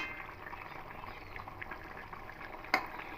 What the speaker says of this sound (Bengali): এবার ঢাকাটা খুলে নেব ঝোলটা ফুটে এসেছে